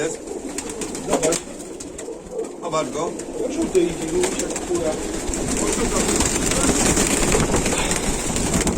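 Pigeons coo softly against a busy outdoor background with a low rumbling hum, the calls repeating unevenly.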